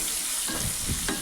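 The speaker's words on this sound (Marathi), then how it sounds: "या चिरलेला एक कांदा टाकून देऊ. जरा थोडंसं भाजून घेऊ कांद्याला आपण." Chopped onion frying in a pan with a pinch of asafoetida on low heat, a steady dense sizzle throughout with a couple of soft stirring scrapes, close and loud, no voices.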